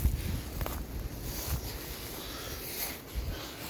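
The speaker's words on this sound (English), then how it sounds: "It's so windy right here." Steady wind blowing outdoors, a broad rushing noise with low rumbling gusts against the microphone, fairly constant throughout with a few stronger buffets.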